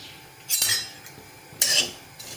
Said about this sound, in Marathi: मी आता इथे कढई गरम व्हायला ठेवलेली आहे आपण आता यामध्ये खसखस घालून घेऊया